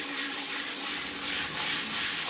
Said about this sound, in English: you're going to want to take the little sanding block that we have